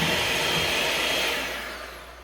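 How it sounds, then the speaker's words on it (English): An electric hand mixer whirs steadily as it beats eight cups of eggs, a continuous close motor drone that eases slightly toward the end, with no talking. "I've taken my mixer,"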